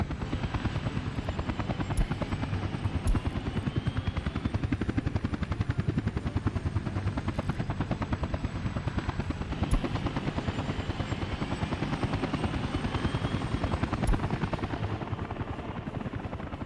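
Steady rhythmic helicopter rotor thumping with a continuous engine whine, constant and close throughout, in the video game Workers & Resources: Soviet Republic.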